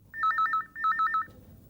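Telephone ringing, two quick electronic warbling rings in a row, clear and close in a quiet room.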